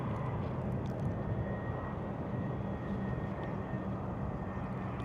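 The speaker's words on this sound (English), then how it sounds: "Global 6000 coming in, beautiful plane" Bombardier Global 6000 business jet coming in to land, a broad, steady rumbling roar from some distance, continuous and even across the whole stretch.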